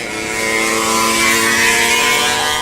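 An 80cc two-stroke motorized bike engine races at high revs, a steady buzzing whine with layered harmonics that swells slightly as the bikes run wheel to wheel, loud and continuous with no talk.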